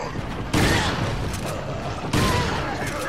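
Two loud, sharp shotgun blasts in Resident Evil 4, about one and a half seconds apart, each followed by a brief ringing decay, with no talking.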